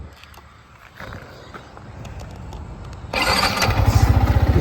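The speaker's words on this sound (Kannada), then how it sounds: "ಇಷ್ಟೇ ಸ್ಟಾರ್ಟ್ ಆಗುತ್ತೆ. ಸೊ ಸೌಂಡ್ ನೋಡ್ಬೋದು ನೀವು." A Yamaha MT15 motorcycle engine starts close by: a low rumble before the engine catches at about three seconds into a loud, throbbing idle with a fast, steady pulse.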